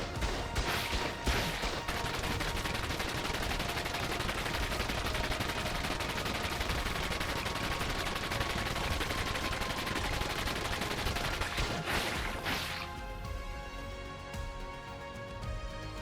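Auto turrets firing in ARK Survival Ascended at a tanking creature, a dense, loud, continuous stream of gunfire lasting about twelve seconds before it thins out into ringing tonal game sounds.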